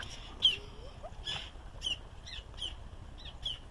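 A wild bird, fed by someone tossing food into the air, gives a series of harsh, scratchy calls: about seven short bursts at uneven intervals, fairly faint and somewhat distant, with no talking over them.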